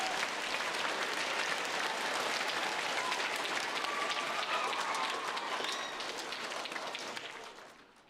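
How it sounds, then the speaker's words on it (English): Sustained audience applause fills a school's Blue Ribbon recognition ceremony, a dense wash of many hands clapping at steady volume for about six seconds before tapering off toward the end. "So let's give them a round of applause."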